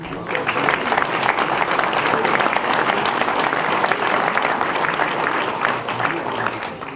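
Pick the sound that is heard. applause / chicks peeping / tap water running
applause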